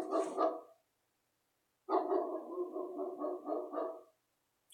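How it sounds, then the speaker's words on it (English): Dogs bark in two rapid bursts separated by a silent gap, the second a longer run of quick, close barks. "I don't know why the dogs are barking."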